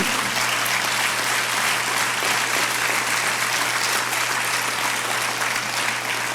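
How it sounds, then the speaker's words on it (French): Loud, sustained applause from a large crowd at a school mediation talk, dense and even clapping throughout with no pauses. "je vous demande quand même de l'applaudir"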